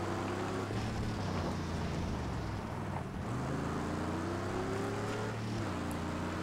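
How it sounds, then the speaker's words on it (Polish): A car engine roaring in the Mad Max video game, a loud sustained low rumble that rises and falls in pitch as the vehicle accelerates, with no talking. "Ach, ten ryk silnika."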